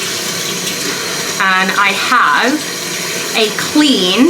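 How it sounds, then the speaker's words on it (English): Tap water runs steadily in a bathroom sink during a skincare routine, a constant hiss filling the whole clip while someone talks over it. "sorry for the background noise, running water."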